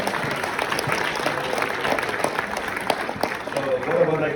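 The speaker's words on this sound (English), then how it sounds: "So give them a round of applause to these men here." Wedding guests clap during the reception speeches, a moderate burst of applause with some crowd murmur and a voice breaking through near the end.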